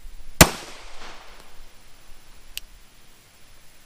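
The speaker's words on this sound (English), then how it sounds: "On the command of fire, you will fire 1 round into your target." A single handgun shot on a Texas LTC pistol qualification range gives one loud, sharp crack that fades quickly, followed by a faint click a couple of seconds later against quiet outdoor background.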